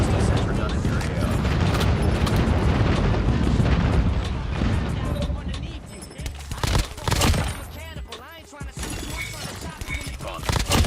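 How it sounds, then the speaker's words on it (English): Enemy airstrike explosions pound through a Call of Duty Mobile match, a dense, loud barrage of booms and gunfire that thins into scattered heavy blasts partway through. "Enemy airstrike incoming."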